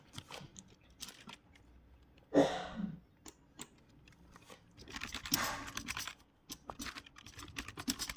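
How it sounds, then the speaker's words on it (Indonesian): Scattered keystrokes on a computer keyboard entering a sudo nmap command, irregular taps with a short burst of clustered clatter, close and fairly quiet with no talking. "Jadi kita akan mengetikkan ya sudo nmap main su localhost."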